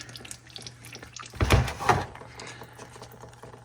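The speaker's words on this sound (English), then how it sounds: "So we're gonna do a slow drip for a while." Coolant dripping and splashing from a BMW during a coolant flush and bleed, soft liquid trickles with a short louder splatter in the middle over a low steady hum.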